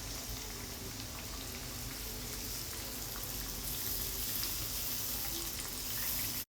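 Coconut burelu fritters in a jaggery batter fry in a non-stick pan of oil, giving a quiet, steady sizzle and bubbling that runs evenly until it cuts off abruptly.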